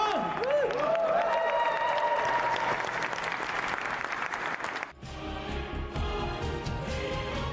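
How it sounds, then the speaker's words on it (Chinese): An audience at a Tibetan talent show stage event applauds the ten newly chosen team captains with sustained, fairly distant clapping. A brief musical tone sounds early, and the applause dips for a moment before resuming. "我们把掌声送给他们好吗？"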